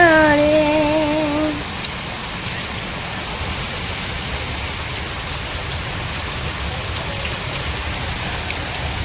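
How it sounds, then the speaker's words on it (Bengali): Heavy storm rain pours steadily on a rooftop, a dense, close, continuous hiss of drops on surfaces. A brief melodic voice fades out in the first seconds, then only the loud downpour remains. "প্রচন্ড বৃষ্টি হচ্ছে, বিদ্যুৎ চমকাচ্ছে"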